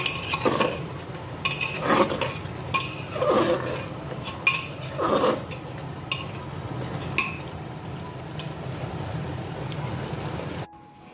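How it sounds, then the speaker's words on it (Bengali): Potatoes sautéing in a pot while being stirred: repeated scraping strokes of a utensil against metal over a continuous sizzling hiss, close and fairly loud, with no talking. "আর একটু কষাবো, আলুগুলো দিয়েছি কষিয়ে"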